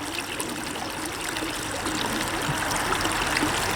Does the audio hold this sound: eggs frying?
no